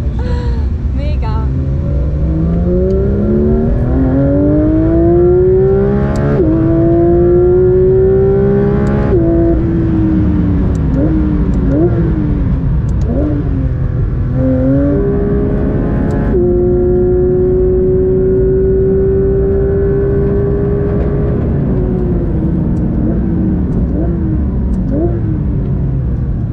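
A Porsche 992 GT3 RS on a grand prix circuit screams through rising gear pulls with sharp upshifts and steady high revs, loud and continuous from inside the car, with occasional talk over it.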